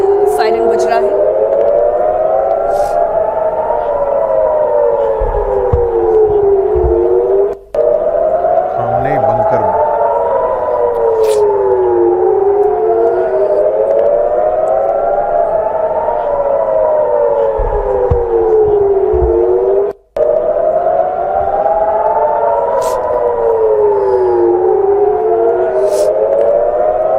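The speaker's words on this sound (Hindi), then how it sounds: "वहां लगातार ये सायरन बज रहा है।" A wailing air raid siren rises and falls in steady, slow cycles, loud and continuous, with a faint voice underneath and two brief dropouts.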